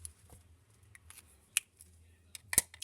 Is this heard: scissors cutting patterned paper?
yes